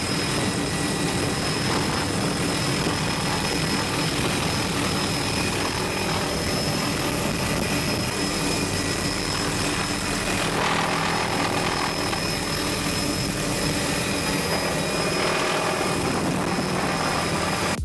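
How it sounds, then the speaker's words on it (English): A helicopter flies low through a rainforest, its rotor and engine roar loud and steady throughout, with a continuous broadband wash and no voices. "This helicopter pilot flying really low through a rainforest."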